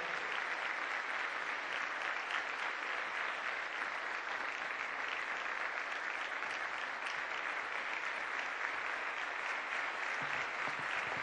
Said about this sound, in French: et nos applaudissements débordantes.